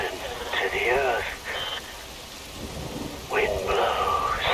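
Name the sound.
rain and thunder from video game Metal Gear Rising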